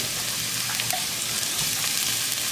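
Chopped shallot sizzles in hot olive oil in a pan over medium heat, a steady close crackling hiss with no talking.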